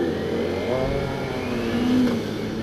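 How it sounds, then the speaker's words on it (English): A Honda CBR 600 sport motorcycle revs close by in a city street, its engine note rising and holding steady, loud and continuous throughout with a slight swell near the end. "There's a nice CBR."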